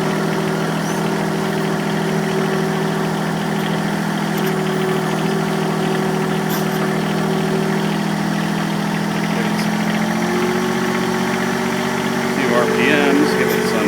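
A John Deere 1023E compact tractor engine runs steadily at idle, a constant close rumble with a slight shift in pitch partway through, continuing without a break.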